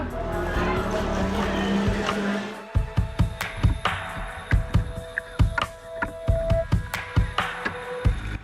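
Cadet go-karts at the start of a race: a roar of engines cuts off abruptly, then a series of sharp rising buzzes as karts pass one after another, with steady high whines underneath.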